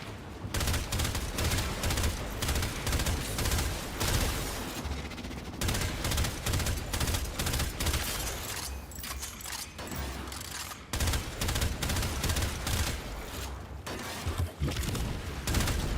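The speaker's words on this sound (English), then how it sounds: "so those are grenades" Grenades explode in the sci-fi shooter Warframe amid a dense, continuous barrage of gunfire, the blasts and shots piling up loudly with only brief lulls.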